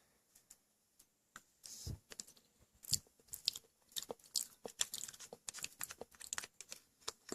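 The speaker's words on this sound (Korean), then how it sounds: "쩝쩝 소리 양해 부탁드릴게요" Close, crisp crunching and wet smacking of someone chewing mochi, irregular bites and mouth noises continuing steadily with no talking.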